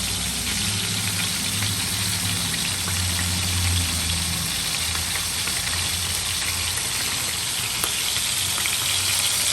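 Sour fermented fish, pla som, frying in hot oil in a home kitchen, a steady dense sizzle and crackle running throughout at close range, with a low rumbling hum beneath and no voices.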